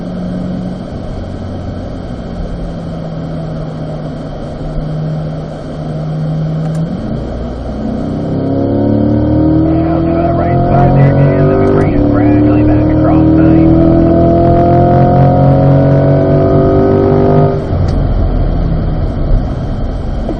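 Chevrolet Corvettes lapping a race track at an owners driving school, a steady engine drone that swells into layered revving and accelerating engines passing close, while an instructor talks over radio.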